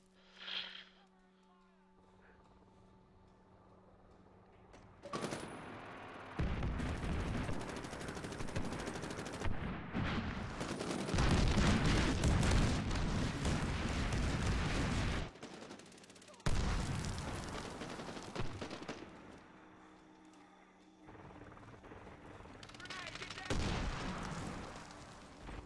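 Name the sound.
gunfire in Medal of Honor Warfighter video game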